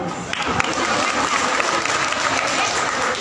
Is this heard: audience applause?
yes